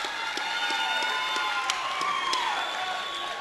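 Family and fans of a Denver East wrestler cheer at a high school wrestling final, a dense crowd roar with scattered shouts and claps holding steady throughout, fairly loud and continuous.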